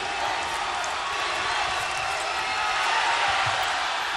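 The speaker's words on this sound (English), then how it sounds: "The crowd here at Loyola Marymount on their feet." Loud home crowd on its feet at a Loyola Marymount men's college basketball game against Gonzaga, a dense, sustained roar of cheering filling the arena throughout.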